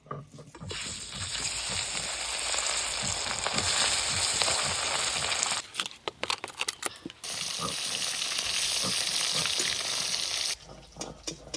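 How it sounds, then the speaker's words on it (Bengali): Fish fry in hot mustard oil, a loud, dense crackling sizzle that runs for several seconds, drops briefly amid clattering handling, then roars back strongly. "সর্ষের তেল, এদিকে তেল খুব ভালো করে গরম হয়ে গেছে, এবার মাছগুলো ভালো করে ভেজে নেব।"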